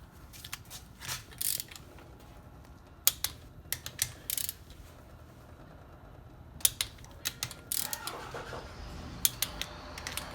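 Torque wrench clicking as it tightens head studs on a Yamaha Banshee top end, with sharp, sparse ratcheting bursts close by against a quiet background.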